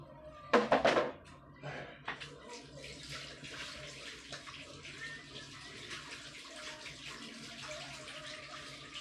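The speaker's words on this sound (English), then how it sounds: "I'm going to wash my hands" Hands being washed under a running tap before prepping curry chicken, with a loud burst of splashing water at the start that settles into a steady, moderate stream of running water.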